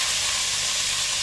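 Cabbage and other vegetables fry over a lowered gas flame in a pan for a Chinese-style Maggi noodle dish, giving a steady, loud, continuous sizzling hiss with no voices.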